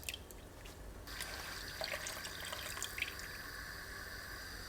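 Whole milk poured into a pot while making Turkish rice pudding (sütlaç); a faint, steady pouring hiss starts about a second in and runs evenly to the end.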